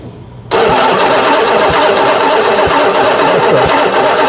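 A 1968 Chrysler Imperial V8 cranks and catches: after a brief quiet moment, a loud, close, continuous engine roar starts abruptly and holds steady, with a rough rhythmic pulse underneath.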